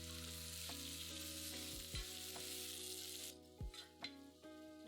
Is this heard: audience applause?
no